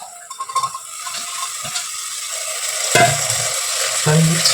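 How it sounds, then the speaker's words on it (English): Yum frying in a pan and being stirred, close spatula clicks and scrapes at the start giving way to a louder steady sizzle, with a few sharp knocks. "Stirring it. I'm going to mix it properly."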